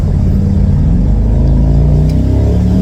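A Mercedes-AMG SL63 engine revs hard as the car pulls away, a loud, steady low rumble filling the cabin with a continuous throaty drone that holds throughout.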